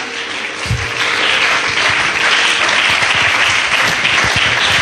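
A church congregation at a Sunday service bursts into loud, sustained applause and acclaim for Jesus Christ. The clapping forms a thick, continuous wash that holds steady throughout.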